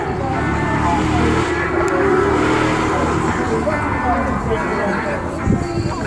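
A 1979 BMW M1 race car accelerates hard away from the line at a Goodwood Festival of Speed shootout, its engine roaring loudly and continuously under a commentator's voice.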